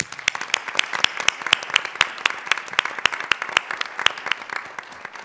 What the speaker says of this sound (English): will you join me in giving him a round of applause?